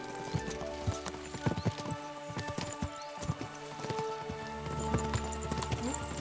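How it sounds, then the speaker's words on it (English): Horses gallop in Kingdom Come: Deliverance II, their hooves clip-clopping in quick irregular clusters, close and loud, with a possible whinny among the hoofbeats. "We should spur the horses on"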